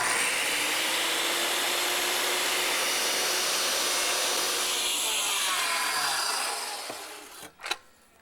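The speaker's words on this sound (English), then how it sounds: "Because it's a miter cut." Miter saw making a 45-degree miter cut in wood, a loud, close, steady whine and cutting roar that winds down near the end, followed by a couple of knocks.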